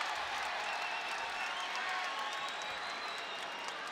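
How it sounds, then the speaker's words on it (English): A college wrestling crowd at an Oklahoma State versus Iowa dual meet cheers and applauds, a dense, steady roar of clapping and voices that holds at an even level from start to finish. "The crowd loving it."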